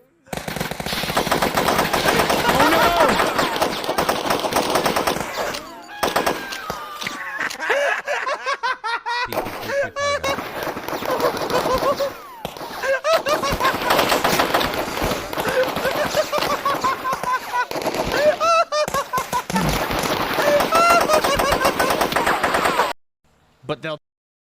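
Rapid, sustained automatic gunfire rattles loudly in long bursts with brief pauses, likely from a game or a clip being watched, and voices talk underneath it.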